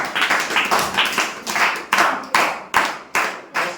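A group claps through a quiz round, loud and near, in rhythmic bursts of hand claps rising and fading roughly twice a second.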